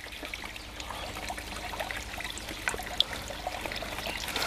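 Water trickles and drains out of a fish-acclimation sock into a garden pond holding koi or carp, a steady soft pouring stream with a few small splashes, no talk.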